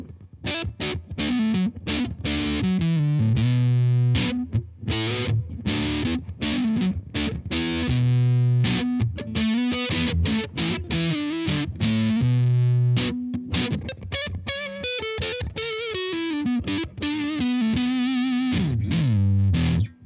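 An electric guitar played through a Glutnik fuzz pedal mixes thick distorted chords with punchy single-note lines, loud, dense and continuous for the whole stretch with no talking.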